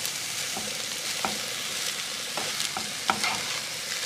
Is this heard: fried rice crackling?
yes